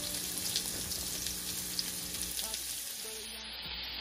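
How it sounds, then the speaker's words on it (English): Carrots and pumpkin squash saute with onions and garlic in a pot, producing a soft, even sizzle with a few faint stirring clinks, quiet and steady, tapering slightly near the end. "carrots, pumpkin squash, and let's saute for 2 minutes."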